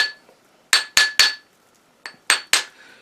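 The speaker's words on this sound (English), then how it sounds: "this is a rawhide hammer, and I just hammer it until it's round" A rawhide hammer strikes a silver ring to round it: six sharp, ringing blows in two quick groups of three, each a bright metallic clink that decays briefly, with quiet pauses between.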